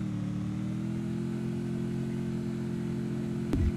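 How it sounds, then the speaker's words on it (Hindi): A motorcycle ridden in Free Fire MAX gives a steady, close engine drone with a low humming tone that holds level throughout, then a short burst of noise near the end, with no talk. "यहाँ पे बाइक लेके ना मैं हिल में चलता हूँ"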